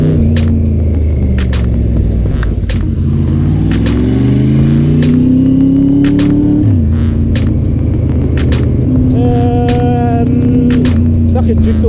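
A Yamaha Raptor R1 superquad rides through London traffic, its engine loud and close, revving up in rising sweeps, dropping back, then climbing again over steady road and wind noise.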